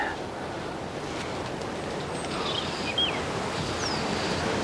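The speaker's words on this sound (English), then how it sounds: "Goodness me, this wind's a problem." Steady gusty wind buffets the microphone at a riverside pike and trout fishing spot, a continuous broadband rumble and hiss that swells slightly and never lets up, with no talk.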